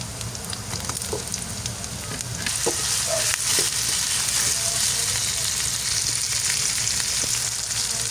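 Mustard greens cook in a hot pan alongside fish, giving a continuous bright sizzle that grows louder after the first couple of seconds, broken by occasional clicks and scrapes of stirring.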